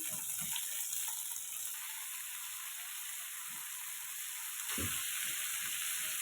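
Green chilies and curry leaves fry in hot oil, giving a steady close hiss of sizzling with a few faint knocks of stirring and no talking.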